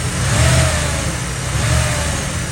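A 1991 Chevy Camaro Z28 convertible V8 worked through the throttle body, a loud close rev swelling early then settling into a rough, steady idle rumble, with no talking.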